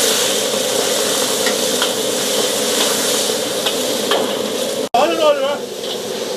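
Scallions, ginger and chili hit hot oil in a wok while spicy swimming crabs are being cooked, giving a loud, steady sizzle with stirring scrapes, then a sudden louder burst of crackling near the end.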